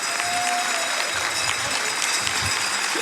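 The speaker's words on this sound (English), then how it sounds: "The crowd is giving their love to Meme and to Huff." Sustained applause from a large live audience at Summer Games Done Quick after a Tetris race, steady dense clapping filling the whole stretch at an even level with no voices on top.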